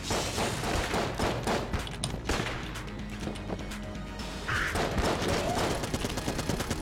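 Dense, continuous video-game gunfire from Enter the Gungeon, with rapid overlapping shots and bursts that fill the whole stretch loudly and stay close. A voice shows up briefly in the mix.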